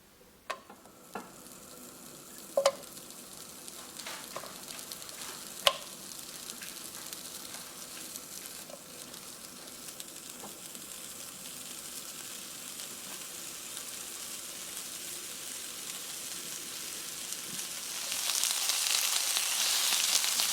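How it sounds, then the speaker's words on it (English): Appalachian style country ham sizzles in a frying pan, a soft steady crackle broken by a few sharp pops early on, swelling louder near the end. "So what we're going to do now is take it over to the frying pan"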